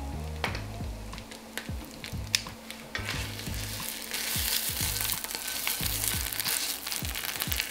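Garlic frying in a pan over medium-low heat, a steady sizzle that grows louder and denser partway through, with faint scrapes and light knocks as it is stirred; no one talks.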